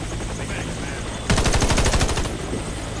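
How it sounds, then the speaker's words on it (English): Rapid automatic gunfire from the first-person shooter Warface bursts in abruptly and rattles loud and close for about a second, then trails off under a steady background of game noise. "Stop shooting each other. Stop throwing grenades!"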